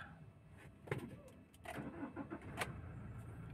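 A 2018 Toyota Hilux with a 1GD engine, freshly overhauled, is cranked and fires up, with a few sharp clicks before the engine catches and settles into a rough rumble, heard up close.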